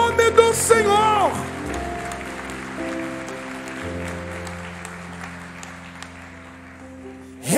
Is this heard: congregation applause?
yes